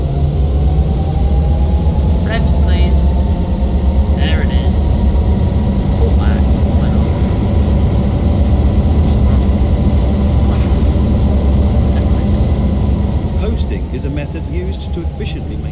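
Steady, loud low rumble of a video-game Clinchfield Railroad diesel locomotive held at full power, droning continuously and close with little variation, a faint rising tone running across it.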